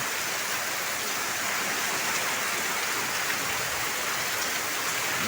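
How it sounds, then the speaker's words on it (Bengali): Heavy rain drums steadily and densely on a tin roof at night, a constant loud hiss of drops with no pauses and no voices. "আজকে রাতেই খুব মুসুলধারে বৃষ্টি হচ্ছে"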